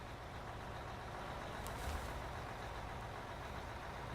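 A fuel truck in the video game Out of Ore idles with a steady low engine rumble and broadband mechanical hiss, faint and continuous throughout, with one brief rise near the middle.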